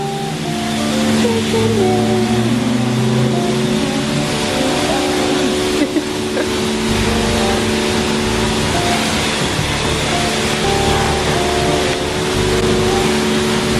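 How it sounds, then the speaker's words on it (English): A high-pressure car wash wand sprays a Subaru, a loud continuous rushing hiss of water against the bodywork that stays close and steady throughout, with a low rumbling hum underneath. "At the car wash."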